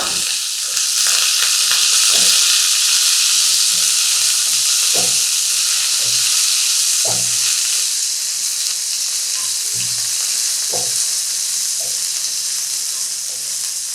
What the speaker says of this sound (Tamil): கொஞ்சம் ப்ரௌன் கலர் ஆன பிறகு இந்த சுண்டலை போட்டுருங்க